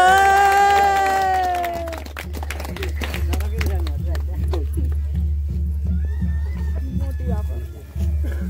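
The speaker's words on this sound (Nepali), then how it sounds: "ताली बजाउनु" Wedding guests clap together in a steady rhythm, close and fairly loud. A song plays at the start, and voices talk over the clapping.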